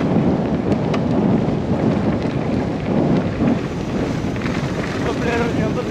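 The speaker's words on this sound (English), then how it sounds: "It's very windy." Strong wind at a mountain bike park buffets the microphone in loud, continuous gusts, a rough roaring rush filling the whole clip.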